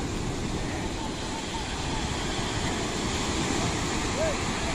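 Continuous rushing, churning water fills the clip, a loud steady splashing wash from water being splashed to drive fish into a net, with a faint distant voice briefly rising above it.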